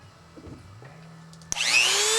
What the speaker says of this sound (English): I usually just take that little end and just grind it off